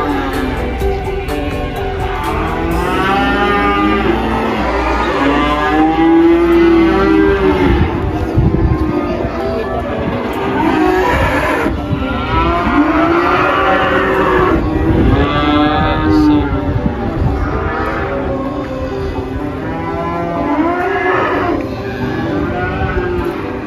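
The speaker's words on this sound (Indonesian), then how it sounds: "Sapi-sapi berjejeran." Cattle at a traditional Minangkabau livestock market low repeatedly and loudly, overlapping moos rising and falling steadily over a constant busy market din, with no talk.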